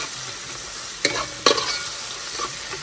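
Garlic sizzles in a hot pan for a Réunion-style massalé dish, with a steady frying hiss broken by two sharp scraping stirs close up and a softer stir near the end.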